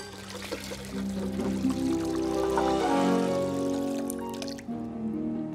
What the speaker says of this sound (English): Let's pour it into the container.